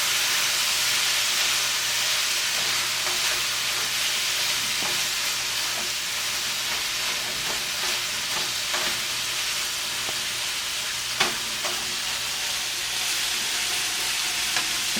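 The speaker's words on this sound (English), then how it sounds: "you're going to stir the vegetables around with the chicken" Chicken and vegetables sizzle in lime juice in a skillet, a steady close hiss with occasional soft clicks and scrapes as they are stirred around, without any talking.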